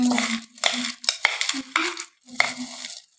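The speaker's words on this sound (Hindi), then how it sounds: "अब इन सबको चम्मच की मदद से मिक्स कर लें।" A spoon stirs crispy fried pea namkeen with its coating, making close scraping, rustling and clinking strokes in a rough rhythm with short pauses, over a faint steady hum.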